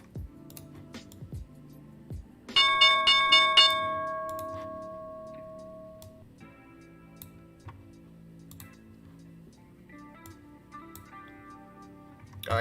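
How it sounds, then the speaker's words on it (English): A stock market opening bell rings out, a bright repeated clanging struck several times in quick succession, then a long fading ring, followed by quiet clicks in a mostly silent room. "here's the bell"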